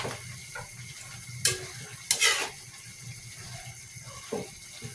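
Tofu and eggplant in bagoong sauce simmer with a soft bubbling sizzle in the pan, broken by a few sharp scraping strokes of a utensil as the mixture is stirred, close and moderately loud.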